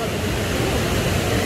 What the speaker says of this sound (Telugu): చూసారు కదండి వాటర్ ఫాల్ ఎంత బాగుందో.